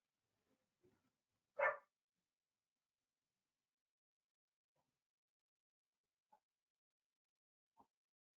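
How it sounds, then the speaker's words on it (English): A dog gives one sharp, fairly close bark in an otherwise quiet morning room, followed by a few much fainter, brief sounds spaced well apart. "Dog is saying hello this morning."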